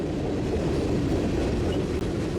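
CSX freight train Z915, led by FCEN locomotive 7063 in Port Manatee Railroad paint, rumbles past at night in Orlando as a loud, steady roar of rolling railcars close by, with no pauses.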